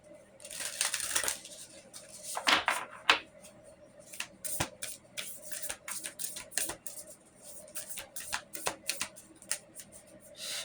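Tarot cards are shuffled close by in a quiet room, giving a run of crisp, irregular riffling snaps and papery flicks, with a few sharper clusters along the way.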